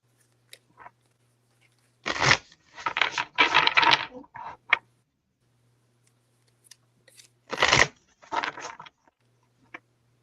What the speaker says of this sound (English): I'm a loud shuffler,